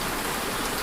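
Steady rain falling during a stormy night, a dense, even hiss of drops spread across the whole short stretch with no voices or other sounds.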